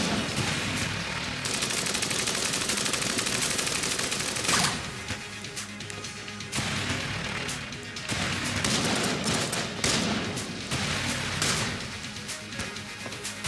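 Rapid, dense gunfire from a weapon in the video game Enter the Gungeon, with near-continuous bursts and brief gaps, loud and up close.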